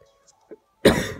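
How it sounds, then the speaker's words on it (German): A person with a bad cough gives one harsh, close cough after a few small throat and mouth sounds, the burst loud and then trailing off. "Scheiß Husten."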